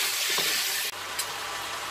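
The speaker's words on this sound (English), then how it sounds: "I am going to put 2 garlic cloves chopped in as well" Chopped garlic cloves sizzling in a hot pan, a loud, steady hissing fry close by with a brief shift as something is stirred or added, no voices.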